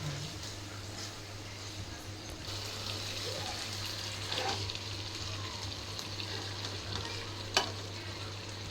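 Fish curry frying in oil as it is gently stirred and turned in the pan, a steady close sizzle with a low constant hum beneath, a few soft scrapes and one sharp clack near the end.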